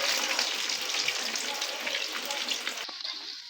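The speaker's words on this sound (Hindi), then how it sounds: "बहुत तेज़ आंच पे नहीं फ्राई करेंगे" Potato donuts frying in hot oil over moderate heat, a dense, steady close-up sizzle and crackle that cuts off abruptly near the end.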